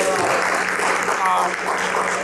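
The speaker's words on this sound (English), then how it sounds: "let's give him a round of applause" At a school board of education meeting, a room full of people gives a steady round of applause, a close, dense patter of clapping that lasts for a couple of seconds while a voice speaks over it.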